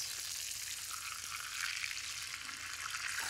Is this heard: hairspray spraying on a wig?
no